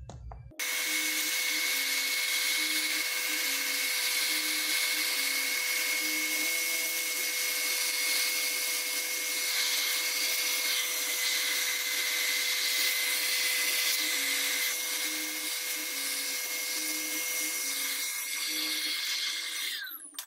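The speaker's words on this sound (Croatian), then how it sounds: "Znači usisivač i četkica da skinemo prašinu, pa idemo na pojačalo." A vacuum cleaner with a brush pulling dust from a Technics EH 550 amplifier, a loud, steady, close whine running continuously with a slight pulsing hum underneath, starting abruptly and cutting off at the end.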